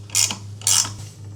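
A ratchet cranking down a bolt while building a custom crazy cart gives two quick, close clicking bursts of pawl and gear mechanism noise, loud and sharp against a low hum.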